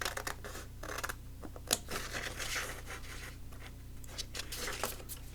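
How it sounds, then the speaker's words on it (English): Scissors cutting around thick card while making botanical tags, close and quiet snips and scraping rasps in irregular bursts, with a sharp crisp snap near the middle. "It's quite easy when you're cutting up against quite thick card to cut round it, because your scissors just won't go"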